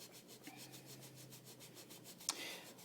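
A tool blade is rubbed on 500 grit sandpaper to work out nicks, making soft rhythmic scraping strokes close by at low volume, with a brief sharper scrape near the end.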